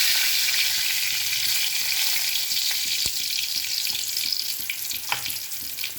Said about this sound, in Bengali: এবার এই তেলের মধ্যে দুটো শুকনো লঙ্কা দিয়ে দেবো, দুটো তেজপাতা দিয়ে দেবো বন্ধুরা।